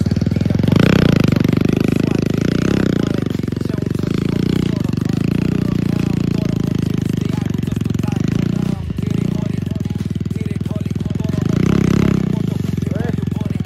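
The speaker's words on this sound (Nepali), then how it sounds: "कहाँ यस्तो ठाउँमा बाइक चलाउनु भनेको त" A Bajaj Pulsar 150 motorcycle rides a dirt track in Syangja, its engine a loud, close, rough drone with pulsing throttle surges and rattling, as someone talks over it throughout.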